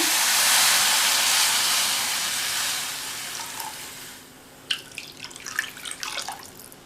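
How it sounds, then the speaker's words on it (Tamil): Water pours into a hot cooking pan of soup with a loud, steady hiss that fades after a few seconds, leaving scattered sizzles and drips. "இது கூட 1/2 கப் தண்ணி சேர்த்துடலாம்."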